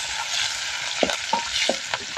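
Grated coconut dry-roasting and being stirred in a pan, a steady soft frying hiss with a few sharp scrapes and clicks of the spoon against the pan, close up and alone.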